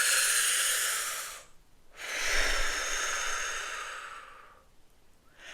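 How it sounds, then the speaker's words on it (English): Slow breathing exercise: a long airy exhale, a pause, then a long hissing breath of several seconds, close and clear with no talk. "Part your lips, inhale slightly to a count of 10 and exhale slowly to a count of 10."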